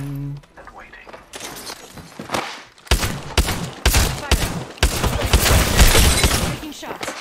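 Video game gunfire crackles in bursts of rapid shots, loud and close, with pauses between volleys and a voice talking at times over the shooting.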